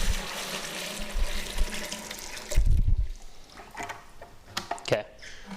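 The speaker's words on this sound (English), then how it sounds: "Pour the sanitizer back into the bucket." Sanitizer splashes and pours back into a home-brewing bucket, a heavy gush near the middle, followed by drips and small sloshing sounds.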